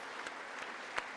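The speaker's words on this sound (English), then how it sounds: "Look, they're clapping." An audience applauds Zelensky's speech with faint, steady clapping and a few louder individual claps standing out.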